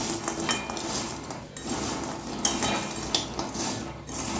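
Fried goja sweets, crisp flour-dough pieces, stirred around in a pan of oil, with scraping clinks of the utensil against the pan over a steady sizzle and a few sharper knocks, close and alone.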